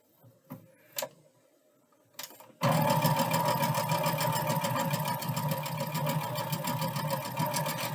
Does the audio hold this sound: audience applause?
no